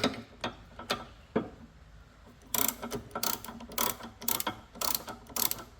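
A ratchet wrench loosens bolts on a Subaru SVX rear axle, with a few isolated clicks followed by rapid bursts of close, sharp ratcheting in quick runs.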